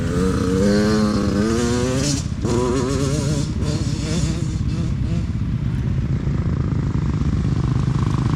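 A 2019 KTM 250SXF four-stroke dirt bike engine running hard while being ridden, loud and close with a revving rise and fall early on, then a sustained raspy drone.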